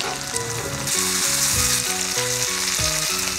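Pan-fried potato slices tossed with pork belly and seasonings in a hot wok, a loud steady sizzle close by, with soft stirring scrapes under a held musical tone, no voices.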